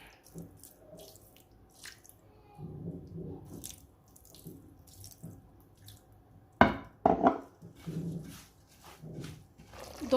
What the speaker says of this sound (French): Je vais pouvoir ajouter de l'eau